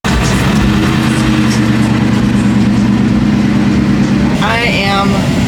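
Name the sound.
loud Ford Mustang engine running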